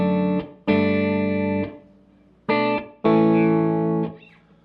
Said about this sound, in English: gonna play what my guitar sounds like with nothing on it, no reverb